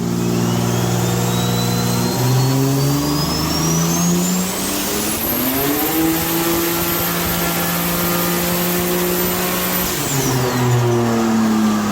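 A turbocharged car at a roll racing event at Perth Motorplex spins its tyres on boost, its engine roaring loudly and close as a whistling pitch climbs, holds high, then drops.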